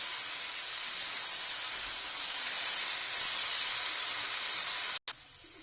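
Shamla fish and small-cut potato pieces sizzle in a frying pan, a steady, dense hiss holding evenly for about five seconds before a brief break near the end.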